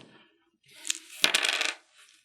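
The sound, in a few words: dice being rolled for a board game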